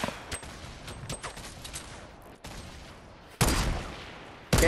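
Gunfire in a Fortnite battle royale match: a distant, scattered patter of shots followed by a louder, harsher burst of fire near the end, with no talk over it.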